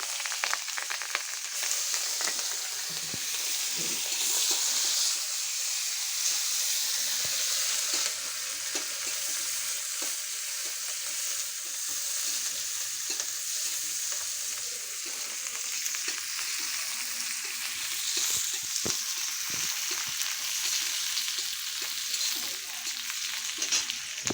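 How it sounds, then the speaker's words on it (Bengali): Onion, chili and bay leaf tempering in hot oil, a continuous close sizzle and crackle of frying with occasional stirring scrapes throughout. "এবার পেঁয়াজ পেঁয়াজ লঙ্কা তেজপাতা ফোড়ন দিচ্ছি"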